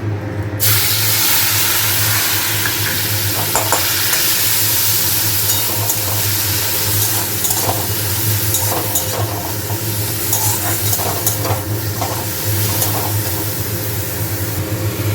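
Food sizzles loudly and continuously in hot ghee, with occasional scrapes and clicks of stirring throughout.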